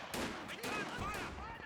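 Bursts of .50 cal machine gun fire mixed with other combat noise in Company of Heroes 2, a World War II strategy game with Wehrmacht and US forces, loud and dense throughout.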